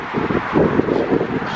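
Strong wind buffets the microphone outdoors on a walk across slippery ice, a continuous, loud, gusting rush that rises and falls with no pauses.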